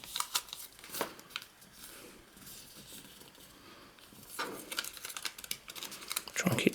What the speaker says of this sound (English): fold over on this existing crease, and the same the opposite way